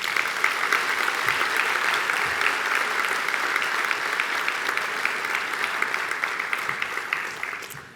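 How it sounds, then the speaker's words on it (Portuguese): A conference audience at the opening session of a congress gives sustained, even applause. The dense clapping stays loud and steady throughout, with no voices above it, and fades slightly at the very end. "peço ao Congresso uma salva de palmas especial para si"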